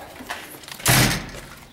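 A door opening on an Allis-Chalmers 8050 tractor cab in a workshop, with a single broad burst of sound rising mid-clip over a quiet background and easing off after about a third of a second.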